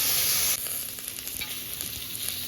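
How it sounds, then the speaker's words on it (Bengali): Pointed gourd, potato and green chilli hit oil left from frying fish, giving a loud, dense sizzle that drops slightly after the first half second and then keeps crackling steadily with faint stirring, no voices. "পটল আর আলু আর কাঁচা লঙ্কা চিড়েটা কেটে রেখেছি না, এই ডাইরেক্ট এই মাছ ভাজা তেলে দিয়ে দেবো"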